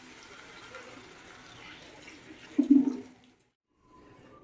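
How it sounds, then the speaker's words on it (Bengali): Hot water is poured into a clay kadai of simmering country chicken curry, giving a short, close splash and gurgle of about a second amid quiet kitchen sounds. "এবারে আমি এতে গরম জল করে রেখেছিলাম ঢেলে দেবো।"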